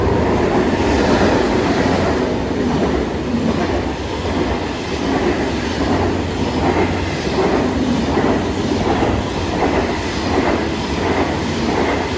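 A train departs Yeongdeungpo Station, rumbling loudly and steadily nearby, with a rhythmic clickety-clack of wheels on rails as it moves along the track.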